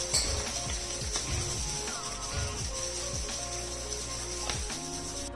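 Instant coffee mixture shaken inside a closed lidded jar makes a steady, continuous rattling and sloshing with faint clinks of glass, fairly close and with no voices.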